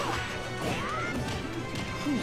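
Link drops a bomb in a Super Smash Bros. 4 tournament match, producing crashing, whacking impacts over a busy game soundscape, with a few short hits spread across the span.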